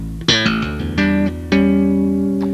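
A bass guitar exercise of thumb slaps, plucks and hammer-ons: a short, close run of punchy attacked notes, each struck note followed by a quick hammered pitch change and a ringing sustain at the end.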